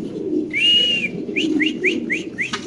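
Male fancy pigeon calling: low, soft cooing runs under a long high whistle followed by five quick rising chirps, close and clear, with no talking.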